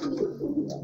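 A pigeon in a breeding loft gives a soft, low coo, short and close, with a faint rustle behind it and no voices.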